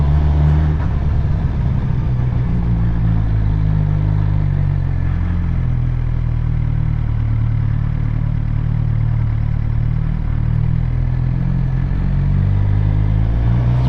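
A Suzuki GSX-R 600 motorcycle runs steadily and loudly close by, its low engine drone heavy and continuous throughout, partly masked by wind rumble.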